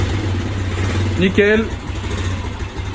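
A motorcycle engine starts with a kick and settles into a steady idle after a clutch replacement in a garage, running low and continuous beneath a brief spoken word.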